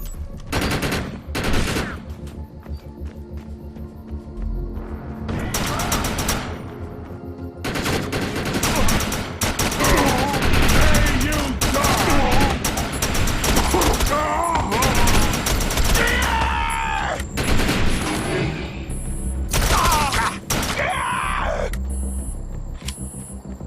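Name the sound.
gunfire, covering fire, from video game Defiance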